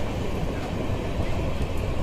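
Visakhapatnam–Tirupati double-decker express running in drizzling rain, a steady close rumble of the rolling carriage without distinct wheel clicks.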